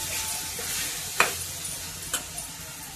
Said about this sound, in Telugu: కొంచెం వేయించుకున్నాను